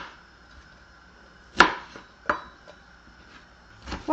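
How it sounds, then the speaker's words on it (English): A couple of sharp knife chops through garlic on a cutting board, spaced apart, with a final quick pair near the end in a quiet room. "just go ahead and give it a rough chop"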